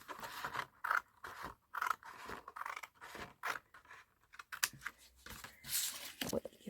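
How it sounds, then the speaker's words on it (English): Scissors cut through card along a score line, making a series of close, quiet snipping and scraping cuts in an uneven rhythm. "So where that second score line is, let's cut that off like so."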